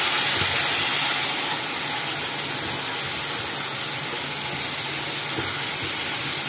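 Spiced pomfret masala frying in a pan gives a dense, even hiss of sizzling with faint stirring underneath, constant and fairly loud throughout.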